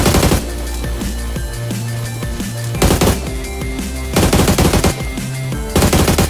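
Rapid machine-gun bursts from a shooter video game, several loud rattling volleys separated by steady lower engine-like game sound with no talk.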